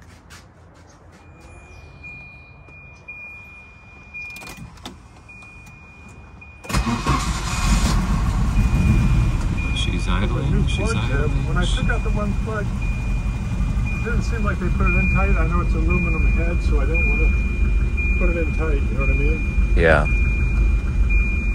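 A Volvo 1800E with a fuel-injected B20 engine catches and settles into a steady, loud idle after a quieter stretch, running unattended while someone talks over it; a thin high whine persists throughout.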